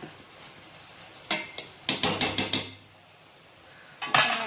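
A metal lid goes onto a pot of cucumber and brinjal curry, giving a sharp clank, then a quick run of five ringing knocks and a final clatter, close and loud against a quiet kitchen.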